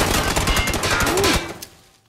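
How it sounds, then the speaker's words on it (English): Automatic gunfire in PUBG, a dense loud burst of rapid shots lasting over a second, then tapering off into quieter trailing noise. "He's getting shot at."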